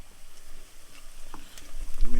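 Garlic thrown into a hot pan for a creamy mushroom sauce sizzles and crackles, with scraping stirring and a louder burst of frying at the end.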